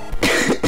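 A single harsh cough bursts out close by, followed by a couple of rougher throaty bursts, with no talking.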